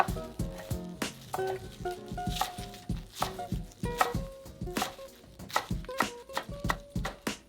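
A knife chops Swiss chard leaves into thin ribbons on a cutting board, a quick series of crisp close taps in an irregular rhythm, fairly quiet and with no voice over it.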